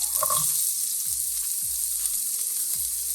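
Carrots frying in oil in a pot for a one-pot chicken stew, a steady broad sizzle with a few faint low knocks from stirring, close and continuous with no talking.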